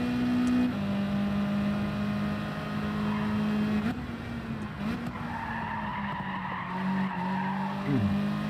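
Race car tires skidding from understeer in Gran Turismo 7, a sustained steady squeal over a loud engine drone, shifting pitch partway through and ending with a falling whine as the car slides.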